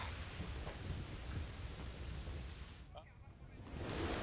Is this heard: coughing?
no